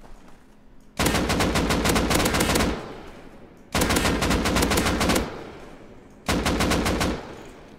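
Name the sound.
AK rifle with muzzle brake firing, from video game Rust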